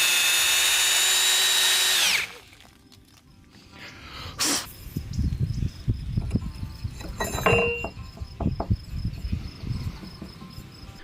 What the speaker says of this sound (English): we had to drill the holes on the backside of the slabs